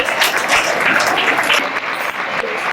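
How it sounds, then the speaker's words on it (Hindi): Loud, dense applause fills a room as an audience claps for a student at a talk on planning, a continuous wash of clapping that cuts off abruptly at the end. "रुद्र पटेल, बहुत बढ़िया, रुद्र के लिए जोरदार तालियां।"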